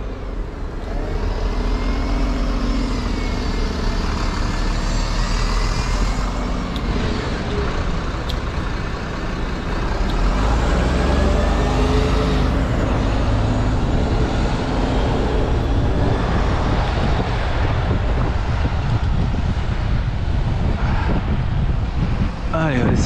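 A vehicle engine roars and strains while accelerating, loud and close under heavy wind buffeting, with rising and falling engine tones and a voice speaking partway through.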